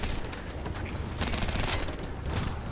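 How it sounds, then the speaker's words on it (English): Rapid gunfire from a shooter video game, The First Descendant, in a high-level dungeon fight, a dense continuous barrage of shots and impacts filling the whole stretch loudly with no pauses. "You are getting shot really bad"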